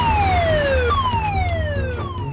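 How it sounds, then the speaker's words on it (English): A lifeboat station assembly siren wails on the south coast of England, loud rising-and-falling electronic tones sweeping downward in repeated cycles, heard up close over a low rumbling background. "The assembly siren is about to sound."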